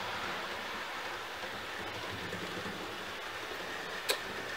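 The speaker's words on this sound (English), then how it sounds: "Had to settle for a couple of freight trains." A freight train passes trackside as a steady, broad rumbling roar that holds throughout, with one sharp click near the end.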